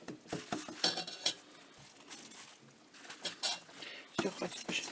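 A spoon clinks and scrapes against a bowl as a nut pie mixture with butter is stirred, in uneven bursts of clatter with a quiet stretch in the middle.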